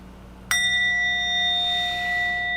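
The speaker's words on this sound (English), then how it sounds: "We'll use a different bell." A small replacement bell struck once, a bright ringing tone with sustained overtones that hangs and slowly fades over a faint low hum.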